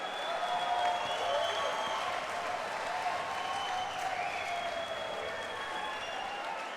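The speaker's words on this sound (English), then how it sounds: "a big round of applause for both of the fighters in this cage." A crowd at a mixed martial arts event applauds both fighters in the cage, a steady, dense wash of clapping with scattered cheers that holds at an even level throughout.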